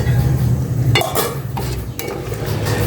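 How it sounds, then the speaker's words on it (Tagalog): A spoon stirs food in a cooking pot where vinegar, pepper and water were just added, giving a soft scraping swirl broken by a few sharp utensil clinks against the pot, close by and without talking. "Haluin ko natin."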